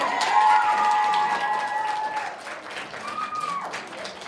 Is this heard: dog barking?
no